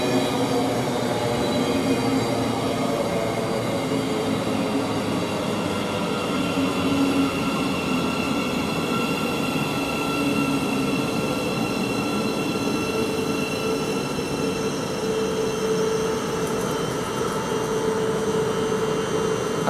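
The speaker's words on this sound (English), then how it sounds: "Now this train is departing now from Bedford to Brighton with the 1216." A Class 700 train on the Bedford to Brighton service pulls out of Luton Airport Parkway station with a loud, steady rumble and rolling wheel noise, faint squeals running through it, and no voices.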